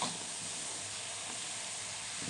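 Puffed rice poha being stirred in a pan over a low flame makes a gentle, continuous sizzling hiss with faint stirring movement, steady and close, no talking.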